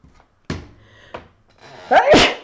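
Short breathy intakes lead up to a loud, sharp sneeze burst near the end, close and sudden.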